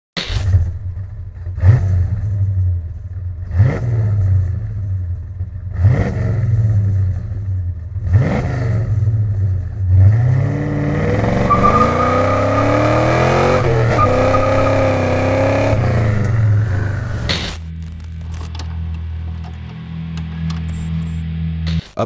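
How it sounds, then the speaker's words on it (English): A GM A-Body car fitted with a Pypes exhaust barks through five sharp throttle blips, then holds a long rising rev before cutting off abruptly into a low idle burble. "Choose from our 4 muffler designs that each provide a unique tone"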